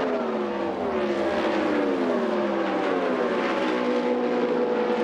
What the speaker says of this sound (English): you can hear that stutter step out of some of the motors. That's guys running into that rev limiter